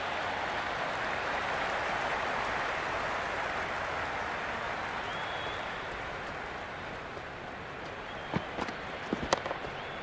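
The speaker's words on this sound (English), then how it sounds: "The crowd is electric right now." A stadium crowd in the Cricket 26 video game roars steadily throughout a T20 World Cup match, a loud continuous wash with a few sharper peaks near the end.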